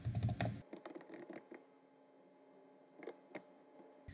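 Code being typed for an Arduino program on a computer keyboard: scattered close key clicks, denser at first, then sparse taps with pauses, faint and alone over a quiet room hum.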